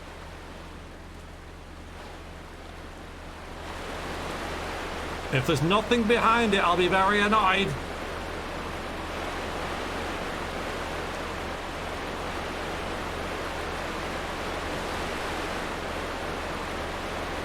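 Waterfall in Thief 2, a loud, steady broadband roar of rushing water filling the whole span, with someone talking over it briefly in the middle.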